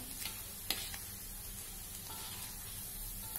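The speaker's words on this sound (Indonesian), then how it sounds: "Udah langsung diangkat, nggak lama. Gorengnya cepet banget." Peanut crackers (peyek) frying in hot oil, a steady soft sizzle with a few faint crackles, quiet and close, with no talk over it.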